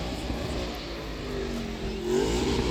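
A 2004 MG ZR 160 with a K-series engine revs at a classic motor show, a steady close engine note with rising harmonics that swells louder near the end, set against outdoor crowd ambience.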